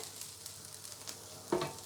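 Quiet, steady sizzling of onion frying in a pan, with a soft stir or clatter near the end.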